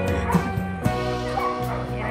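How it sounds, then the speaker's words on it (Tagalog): Several dogs bark, yip and whimper in quick succession at Sai Kung Public Pier, loud and fairly close, with a crowd murmuring underneath. "Ang daming aso dun, oh."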